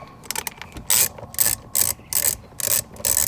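A Torx T-30 bit on a ratchet backs a screw out inside a 2011 Audi S5 during airbag replacement, giving close, loud bursts of rapid ratchet clicking in a steady rhythm of six or seven pulls.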